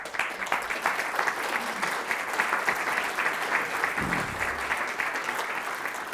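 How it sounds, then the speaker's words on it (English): An audience claps steadily through the whole stretch, even and sustained without any rise or fall, with a faint low murmur partway through. "Don't clap, it'll only encourage him."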